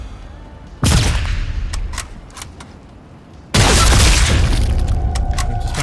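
Sniper rifle fire in the video game Sniper Elite Resistance, two sharp loud shot blasts, each followed by sustained booming rumble and debris, with scattered clicks between them.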